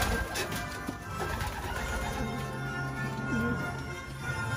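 Breeding pigeons coo softly and repeatedly in a loft, several low calls rising over steady background hum and faint rustling.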